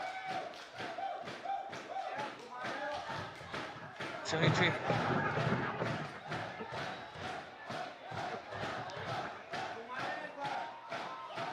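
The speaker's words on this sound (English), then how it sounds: "The crowd alive and roaring throughout this game" A crowd roars steadily through a Nagaland Super League football match between Barak FC and Red Scars FC, with a swell of louder cheering midway, while a commentator talks over it.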